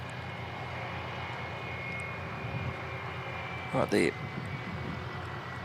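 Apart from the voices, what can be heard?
aircraft taxiing along runway 20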